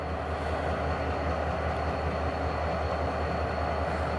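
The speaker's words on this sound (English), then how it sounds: "How do you guys like those blue Conrail locomotives?" A blue Conrail locomotive train rolls past, a steady low rumble with a broad rushing roar that holds constant and close throughout, no voices.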